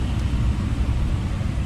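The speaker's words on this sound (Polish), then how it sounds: "No ja wsiadam do Lady i jadę dalej." A Lada 21013 car is driving with its engine running, giving a steady, low, droning rumble heard from close by with no talking.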